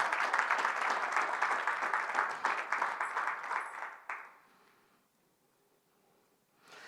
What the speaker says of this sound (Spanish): Denle un aplauso al Señor. Vamos, déselo fuerte.